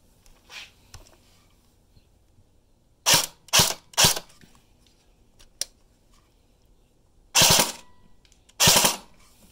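A new toy gun with a wind-up magazine fires in a few sharp bursts, two quick clusters of three cracks followed by two louder, longer rattling shots, with quiet gaps between.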